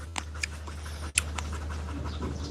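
A hot dog pants in quick, breathy bursts close by, with a brief scratching noise partway through over a low steady hum.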